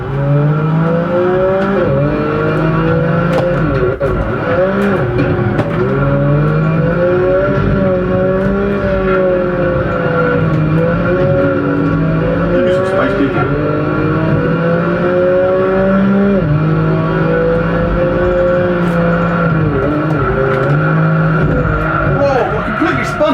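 A Honda NSX racing in Project Gotham Racing 2, its engine loud and continuous with rising and falling revs through gear changes, tyres squealing in corners, and someone talking over the game audio.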